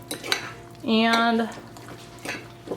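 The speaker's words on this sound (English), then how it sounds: "So I just mix this real well" Utensil scraping and clinking against a bowl as food ingredients are mixed together, a sustained stir in the middle with brief taps around it, close by, with a short spoken word.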